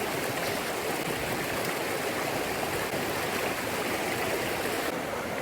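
Creek water flows in a steady, broad rushing wash that holds constant from start to finish, fairly close and unbroken, with no voices over it.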